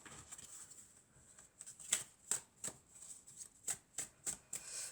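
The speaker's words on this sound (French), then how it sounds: "Je vais prendre encore quelques cartes." Oracle cards are drawn and handled from a deck, making a series of quiet, crisp papery flicks and slides, close and fairly evenly spaced, with no talking.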